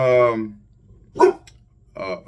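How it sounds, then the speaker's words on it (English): A pet dog gives one short, sharp bark close by, falling between stretches of someone talking indoors. "shout out to Big Boy. He's back. My dog"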